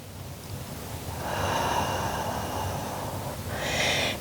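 A single deep, airy breath during a Pilates session, drawn in slowly and held as a soft, close rush of air, followed by a brief second push of breath near the end.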